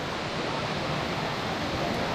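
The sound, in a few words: waterfall cascading in Himachal Pradesh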